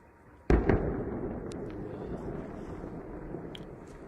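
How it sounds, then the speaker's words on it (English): A drone strike explosion at an oil refinery: one sharp, loud blast rings out and then trails into a long rumbling roar, with faint pops and cracks over steady wind noise. "Ooh, there's the next explosion."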